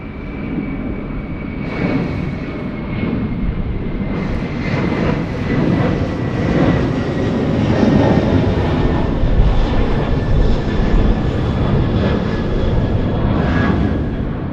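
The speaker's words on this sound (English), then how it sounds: "we're just getting away here with the Qantas to Denpasar now, the 330 airborne" A Qantas Airbus A330 takes off at Sydney Airport at night, its jet engines roaring loud and steady for about fifteen seconds with a sustained whine above the rumble, no voices over it.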